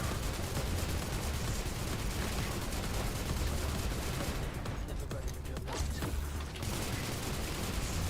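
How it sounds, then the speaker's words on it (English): Wall crusher in The First Descendant video game, a continuous dense barrage of grinding, crackling impacts and rapid bursts that stays loud throughout with only a brief thinning in the middle. "That's the sound of the wall crusher."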